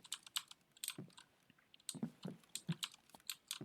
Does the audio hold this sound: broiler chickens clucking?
no